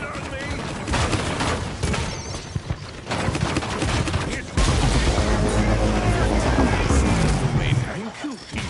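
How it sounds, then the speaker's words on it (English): Enemy gunfire in Paladins rattles in dense, rapid bursts with booming impacts, loud and continuous across the clip, mixed with game effects and chatter. "Enemies are firing on me."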